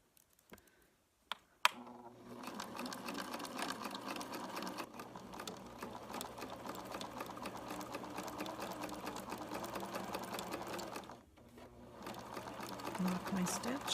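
Sewing machine stitching elastic onto thrift store clothes, running in a steady rapid rattle for about ten seconds after a few clicks, pausing briefly, then resuming, with someone speaking softly over it.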